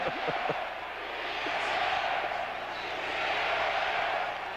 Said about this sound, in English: The crowd chanting defense on 3rd and 10.